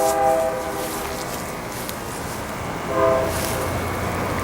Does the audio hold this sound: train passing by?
yes